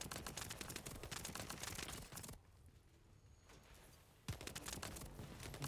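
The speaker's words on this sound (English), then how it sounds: "I'm shooting as much as I can." Rapid gunfire from The First Descendant video game, a dense stream of close, loud shots that stops for about two seconds and then resumes.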